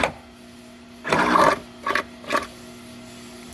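A power drill boring holes into a Mitsubishi Eclipse GSX Spyder body during an engine swap, one longer whirring burst followed by two short bursts, close and fairly loud.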